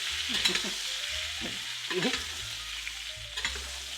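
A filet mignon sears in a hot pan, a continuous close hiss with occasional stirring and shifting knocks.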